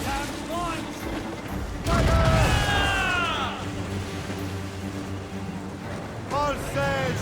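Ship cannons boom in Assassin's Creed Rogue, with a loud burst of broadside fire crashing over a steady rumble of naval combat, while game voices talk over the action.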